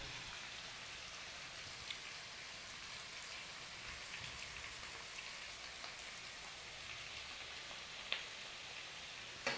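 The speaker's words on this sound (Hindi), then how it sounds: "ये देखिए प्याज लाल हो रही है भैया" Onions fry in a pan for a country-style chicken party cooked outdoors with friends, a steady loud sizzle and crackle with occasional pops and no talking.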